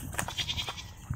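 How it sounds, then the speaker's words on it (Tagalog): A goat bleats close by in a Filipino yard, a short wavering cry followed by a softer second call, with no talking over it. "Ito yung kambing ko guys."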